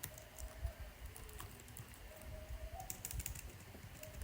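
Quiet computer keyboard typing as an SQL select statement is entered, soft irregular key clicks in short bursts with faint background noise throughout.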